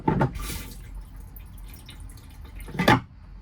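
Flush fluid in a Rapido 7095DF motorhome cassette toilet drains into the cassette, with a splashing gush at the start, a soft trickle, then another brief gurgling burst near the end.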